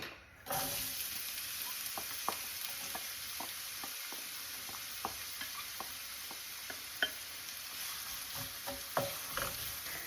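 A cup and a half of onions sautéing in three to four tablespoons of regular olive oil: a steady, close sizzle broken by scattered clicks and scrapes of stirring, with no voices.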